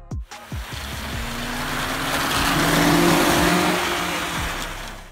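A monster truck with a powerful engine and big wheels revs up in a swelling roar that builds to a peak and then eases off, with a few sharp low thumps and pops near the start.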